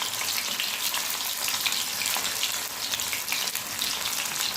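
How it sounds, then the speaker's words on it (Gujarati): Muthiya dumplings deep-fry in hot oil over a medium flame, giving a loud, continuous, dense bubbling sizzle that holds steady from start to finish with no voices. "મીડિયમ ગેસ પર જ આપણે મુઠિયા તળીશું"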